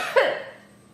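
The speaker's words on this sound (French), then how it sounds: "Du coup, ça me fait tousser." One short, sharp cough from a person, close and fairly quiet, fading quickly into silence.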